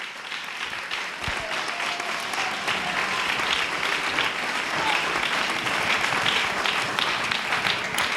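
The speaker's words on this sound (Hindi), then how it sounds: "जोर से ताली बजाए खुदा के लिए।" Church congregation breaking into louder, sustained applause in worship, a dense continuous roar of many clapping hands that holds strong throughout.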